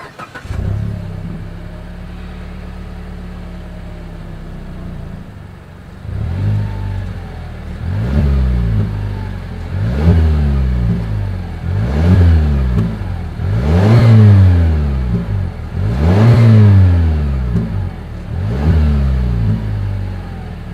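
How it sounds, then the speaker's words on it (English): A 2020 Mazda CX-5 engine idles with a low exhaust rumble, then revs up sharply about seven times in a steady rhythm, each rev loud and close. "As always, here is that exhaust clip"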